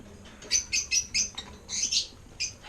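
Pet African lovebirds in an aviary give a quick run of high, thin chirps, several short bursts close together over quiet background.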